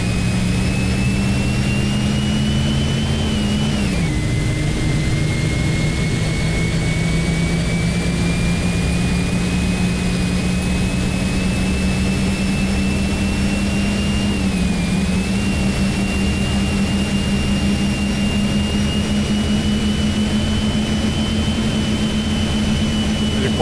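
Bus engine in the OMSI 2 bus simulator, a Torino 2014 Transcol coach, droning loud and steady throughout with a continuous low hum and whine that dips briefly twice as revs shift.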